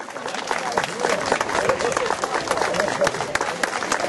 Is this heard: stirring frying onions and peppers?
no